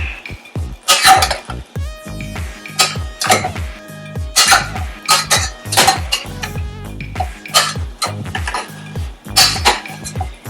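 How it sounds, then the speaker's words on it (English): A spoon clinks and scrapes against a bowl in repeated stirring strokes, close and fairly loud, with no voices. "you're going to get a spoon and start stirring it around a little bit"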